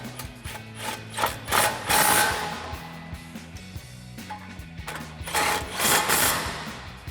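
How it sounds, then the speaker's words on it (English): Brake caliper bolts being tightened with a 17mm swivel socket during a brake pad installation on a Toyota Tacoma, rapid ratcheting clicks in several bursts separated by brief pauses, close and fairly loud. "we'll come back in and tighten these back down again with our 17mm swivel socket"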